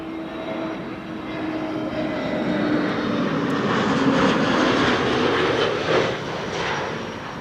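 A British Airways airliner flies downwind over Amsterdam Schiphol Airport, a loud sustained engine roar that swells and then eases slightly, heard alone without voices.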